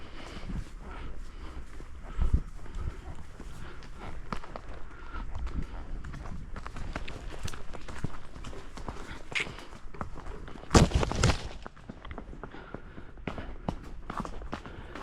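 Horse hooves clop along at a steady walking pace, close by, with a louder scuffling burst partway through.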